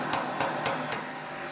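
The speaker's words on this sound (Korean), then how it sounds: "참고로 이거 망치로 때린다고 뭐라 하지 말아요." A hammer strikes the steel fuel tank of a 1995 Chevrolet van four times in a steady rhythm, each a sharp close metallic knock over a constant background hum.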